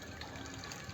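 Water gushes steadily into plastic cans, a continuous dense rushing and filling noise, close and unbroken over a brief moment.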